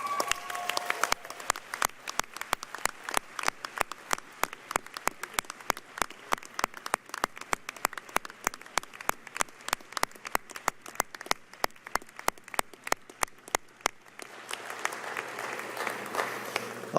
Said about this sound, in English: give them a round of applause for getting you to these seats today